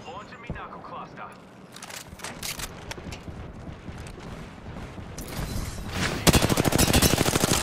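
Rapid gunfire in the Apex Legends shooter game, crackling bursts and mechanical clatter that grow louder and denser toward the end, mixed with a player talking over it.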